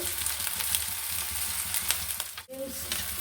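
Cooked rice being poured into a hot pan for mixed fried rice, a continuous close sizzle and crackle with scraping stir sounds and a brief dip before the frying resumes.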